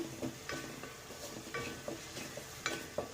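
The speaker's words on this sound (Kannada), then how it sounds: "ಸ್ವಲ್ಪ ಹಳದಿ ಪೌಡರ್ ಹಾಕೋತೀನಿ ಫ್ರೈ ಮಾಡ್ಕೊಳ್ಳಿ" Turmeric powder fries in oil in a pan for egg rice, with soft sizzling under repeated scraping and stirring strokes of a spoon, close and fairly quiet.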